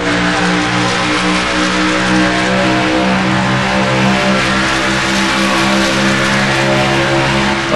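A race car engine roars continuously at high revs from an onboard position at Pocono Raceway, loud and sustained with a steady harmonic drone and no talk.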